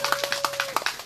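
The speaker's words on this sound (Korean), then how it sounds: "다시 한번 큰 박수 부탁드리겠습니다" An audience applauds after a song at a Seongju candlelight gathering: a short burst of quick, sharp hand claps close by, with no talking.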